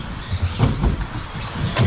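Electric 21.5 off-road RC buggies racing down the back straight of an indoor carpet track at a national race: a fairly loud, busy rush of motor and tyre noise with uneven surges as the cars pass.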